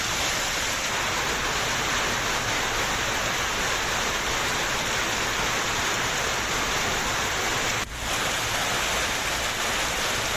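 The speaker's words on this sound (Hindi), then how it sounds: "राजौरी जिले में सुबह से ही मूसलाधार बारिश का सिलसिला जारी है" Heavy, steady rain pours down in Rajouri district, Jammu and Kashmir, as a dense, unbroken hiss with one brief dip near the end.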